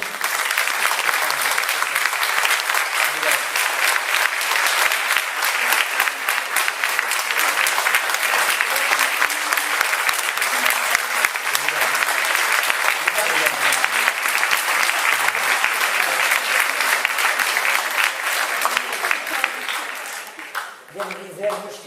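A lecture audience applauds after a talk on nonverbal communication in education, with sustained dense clapping that holds steady and loud for about twenty seconds before tapering off near the end.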